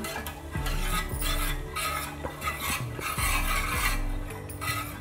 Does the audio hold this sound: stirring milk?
yes